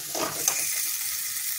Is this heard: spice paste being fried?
yes